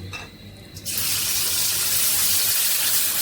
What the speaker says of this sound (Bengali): শাক ধুয়ে ভিজায় রাখছি একটু পানি দিয়ে